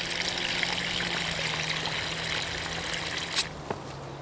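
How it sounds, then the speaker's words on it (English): Water from an irrigation line drain runs outside a growing tunnel, making a steady, continuous trickle that stays even throughout, with a couple of brief knocks near the end. "you can see that it's draining outside the tunnel, so it doesn't disturb anything in here"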